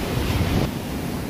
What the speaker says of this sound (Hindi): पानी का शोर देख रहे हैं व्यूअर्स कितना ज़्यादा है।